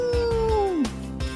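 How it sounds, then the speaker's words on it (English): A dog's drawn-out howl from a Mug Root Beer ad, sliding downward in pitch and fading, close and fairly loud over a soft repeating background beat. "The sound of the dog."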